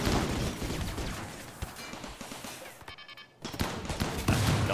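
Mortars firing in the colony-building game Rimworld, a dense barrage of booming, crackling blasts that runs nearly continuously, breaks briefly into a short gap, then resumes loud and close.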